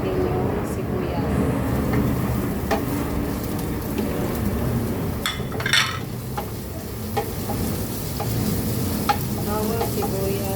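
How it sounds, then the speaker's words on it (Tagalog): Garlic and onion sizzle and fry in a pan for apritada while being stirred, the spoon scraping and clinking close by; a voice talks over the steady frying. "Halo-haloin natin hanggang sa tapos sunod natin yung sibuyas."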